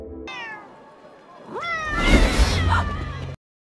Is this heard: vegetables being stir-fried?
no